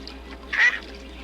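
A single short quack from a big mallard duck, one clear mid-pitched burst near the middle against a quiet background, fairly close and on its own.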